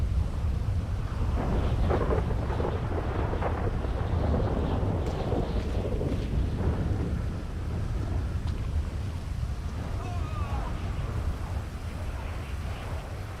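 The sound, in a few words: rain with thunder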